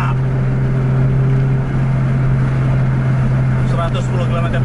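Racing bus engine holding a steady, loud droning hum with a strong low tone, close and continuous throughout.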